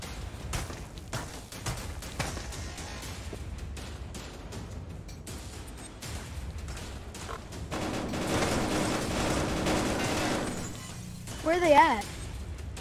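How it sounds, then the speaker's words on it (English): Gunfire in a VR shooter video game, with enemy shots crackling in rapid bursts at mid-distance and a sustained noisy rattle toward the end, mixed under players talking. "Hey, now he's down over there shooting."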